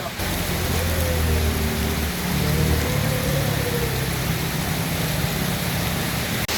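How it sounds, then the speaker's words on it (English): Steady, heavy rain pours down during a ride through Denpasar, Bali, a dense continuous hiss of drops with a low rumble of traffic and engine noise underneath. "So it started raining on us."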